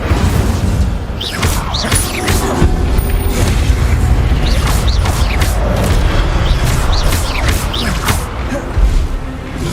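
Incendio fire spells cast in the Hogwarts Legacy video game: a steady barrage of booming fiery blasts and whooshes over constant rumbling battle noise, loud and dense for the whole stretch.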